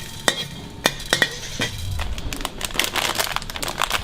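Coriander seeds being dry roasted in a pan on a street food cart, sharp scraping clicks and rattling of seeds against metal, followed by a softer continuous rustling stir.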